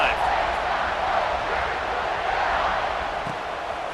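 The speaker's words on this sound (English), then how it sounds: "this crowd is feeling themselves after that last drive." A football stadium crowd roars steadily before kickoff in an Ohio State versus Illinois game, a broad sustained cheer filling the air with no break.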